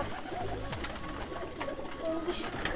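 Soft pigeon coos sound amid constant background noise and distant chatter, the male birds cooing intermittently nearby in a loft.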